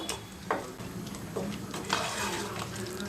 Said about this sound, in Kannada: ಎಣ್ಣೆಯಲ್ಲಿ ಚೆನ್ನಾಗಿ ಫ್ರೈ ಆಗಬೇಕು ಮಸಾಲೆ ಎಲ್ಲನೂ ಹಸಿ ವಾಸನೆ ಹೋಗೋ ತನಕ ಫ್ರೈ ಮಾಡಬೇಕು